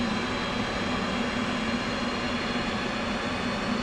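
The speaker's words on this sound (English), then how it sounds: "the incredible sound of the right engine starting up" Simulated F/A-18 right jet engine spooling up during a cold startup in the DCS World flight game, a steady loud broadband roar with a constant low hum, continuous and without talk.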